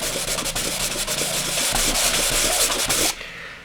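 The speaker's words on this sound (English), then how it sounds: "So what you're doing is you're sanding the edge" Close, continuous rasping of sandpaper rubbing back and forth on the edge of a pipe, with rhythmic strokes that stop abruptly near the end.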